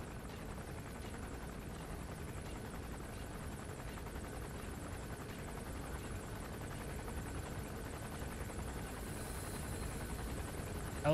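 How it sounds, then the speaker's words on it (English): A helicopter hovers overhead in Metal Gear Solid V, a steady, dense rotor drone that holds at an even loudness for several seconds with no voices. "Helicopter's on top of me"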